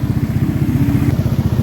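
A Honda Beat FI scooter engine runs steadily at idle close by, with a low, even, pulsing throb and a light clatter throughout, and no voices.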